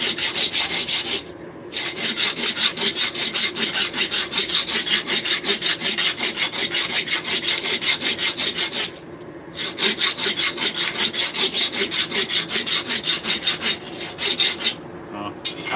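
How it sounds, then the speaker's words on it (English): Rapid rhythmic rasping of a file cleaning up a hammered metal forging, stroke after stroke, loud and close, pausing briefly twice before resuming. "And you come clean it up with a file."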